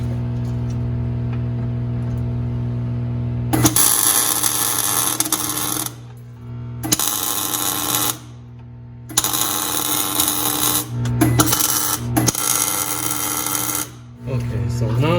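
Tack welds on a tube fitted to a 1994 Jeep YJ frame give off several bursts of harsh, crackling buzz lasting a few seconds each. Short pauses separate the bursts, and a steady hum runs underneath.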